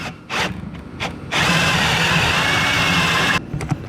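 Power drill boring into a block of wood, a brief whir with short bursts at first, then a steady, loud drilling run of about two seconds that stops abruptly, all close by with no talking.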